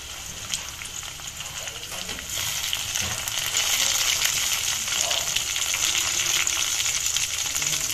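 Pepper crab masala frying on a stove, a steady close sizzle and crackle that grows louder partway through, with occasional stirring clinks and scrapes.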